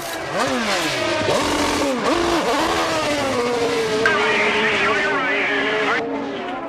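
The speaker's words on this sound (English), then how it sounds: "Let's listen in to this Ray Hall Letterman crew as they make this final stop" An IndyCar makes a four-tire pit stop with the Rahal Letterman crew at Kansas Speedway in 2004, heard as loud engines revving, rising and falling as cars pull away, with commentary over the top.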